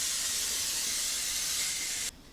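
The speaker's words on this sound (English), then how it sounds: "I'm going to spray it with some cooking spray." Cooking spray hisses steadily from an aerosol can into a 9 by 13 baking dish, one continuous close burst lasting about two seconds before cutting off sharply.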